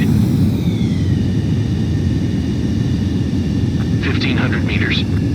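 A jet aircraft on landing approach in the video game Ace Combat 7 gives a loud, steady engine roar and rumble throughout, with brief higher warbling tones near the end.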